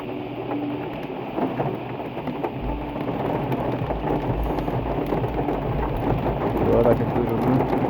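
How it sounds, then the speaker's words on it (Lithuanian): Rain falls steadily outdoors, a soft, continuous hiss with a low rumble underneath that swells slightly toward the end. "Ateina lietutis, matau, kaip ten balta."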